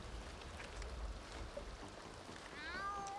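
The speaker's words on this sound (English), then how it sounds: "This is Heidi, their cat." A cat in The Sims 2 life-simulation game gives a short, rising meow near the end, after a stretch of low, murmuring in-game background ambience.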